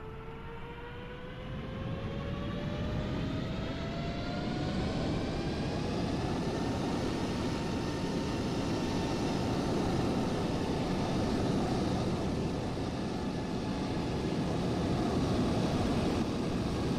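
A jet airliner powers up for takeoff at Edmonton airport, its engine roar swelling from a rising whine into a loud, sustained broadband rush that holds steady as the plane accelerates and climbs.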